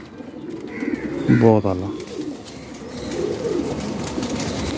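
Qasoori pigeons in a pigeon gallery give one clear, close coo in the middle, with soft rustling and wing movement around it, while someone talks briefly nearby.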